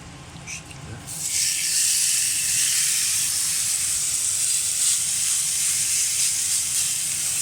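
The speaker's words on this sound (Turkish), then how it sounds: "Dediğim gibi yüksek ısıyla bu şekilde mühürleyeceğiz." Meat searing over high heat in a lightly oiled pan, a loud steady hiss that jumps in after the first second and holds evenly to the end.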